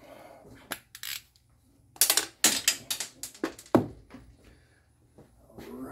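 A ratchet fitted with a 10 mm socket works on the fuel rail of a 1995 Jeep Wrangler, giving a burst of sharp metallic clicks and clacks close by, irregular and quick, with quieter handling noise around them.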